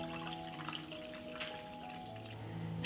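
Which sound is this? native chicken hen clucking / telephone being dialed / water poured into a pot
water poured into a pot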